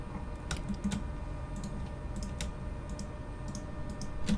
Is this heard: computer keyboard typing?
yes